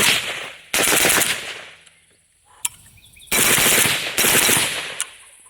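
Zastava M90 rifle firing in long rapid bursts, loud and close, each burst a dense rattle of shots separated by short pauses and ringing echo.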